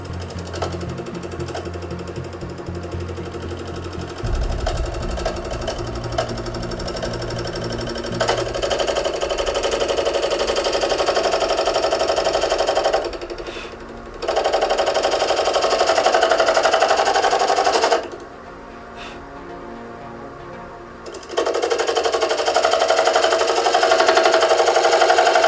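A wood lathe turns an oak and pine candlestick made from scrap wood. The motor drones steadily and close, with a gritty cutting hiss that drops out briefly twice and then resumes, and nobody speaks over it.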